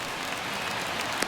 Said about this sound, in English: all those fans cheering